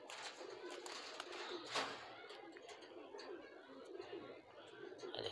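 A high flyer pigeon held in the hand gives soft cooing and fluttering sounds at close range, under a steady murmur of background chatter and voices.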